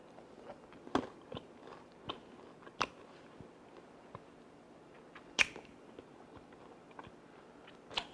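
Biting and chewing the crunchy end of a chocolate cookie, close-up sharp crunches at irregular intervals with softer chewing between, no talking.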